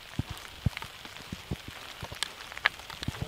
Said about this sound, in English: Well, it is raining out